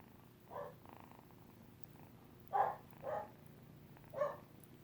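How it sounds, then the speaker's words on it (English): Soft, close purring from a kitten, with a few louder rumbling bursts spaced irregularly over a quiet background hum. "motor's going, so he's purring"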